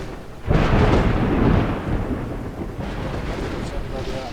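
A thunderstorm in the video game Dawn of Man rumbles with a loud thunderclap rolling in, then a steady roar of rain and wind continuing underneath.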